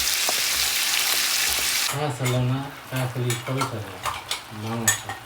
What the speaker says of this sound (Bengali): সেই মাছ ভেজে নিচ্ছি